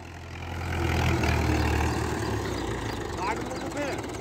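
A 45-year-old tractor engine idles nearby with a low, steady rumble and throb, running smoothly while people talk over it.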